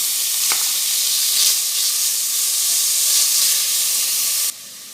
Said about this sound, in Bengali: এখন আমি এই ঘিয়ের মধ্যে নারকেলগুলা ভেজে নিব।